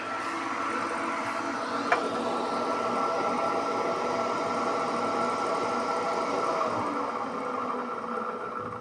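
12 volt fan running in a carbon air filter system, a steady close whir and rumble with a faint rattling texture, continuous and unchanging throughout with a single small knock.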